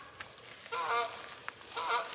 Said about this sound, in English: Ooh, Canadian geese.